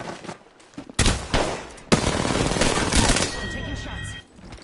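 Bursts of gunfire from the battle royale shooter Apex Legends, with loud sharp volleys and a rapid stretch of sustained shooting, followed by fainter tonal in-game sounds near the end.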